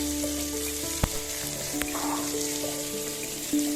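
Onion with ginger garlic paste sizzles steadily in a pan, close and even, with a few sharp clicks of a spoon stirring against the pan; no voices.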